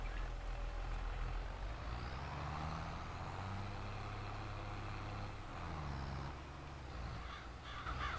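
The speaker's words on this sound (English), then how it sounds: "First, let me get the truck out of the way." A truck engine idles and drives in a farming simulation game, a steady low rumble that shifts pitch as it moves, with a crow cawing over it and no talking.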